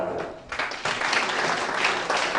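A large audience in a hall claps for a pastor at a people's conference, a dense, steady burst of applause that swells after a brief dip and carries on strongly to the end.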